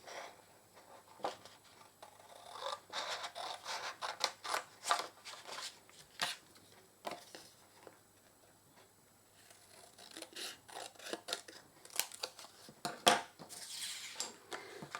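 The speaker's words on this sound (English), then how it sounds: "get your trimmer or your scissors and just cut" Scissors or a trimmer cut paper card for a craft purse card, giving soft, irregular snipping and rustling close by in a quiet room, in bursts with brief pauses.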